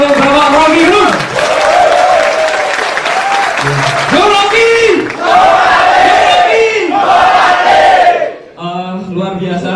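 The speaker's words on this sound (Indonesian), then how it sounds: "tepuk tangan untuk Bapak Rocky Gerung" An audience at a lecture for Rocky Gerung erupts in loud cheering, shouts and applause that swell, dip and rise again before fading.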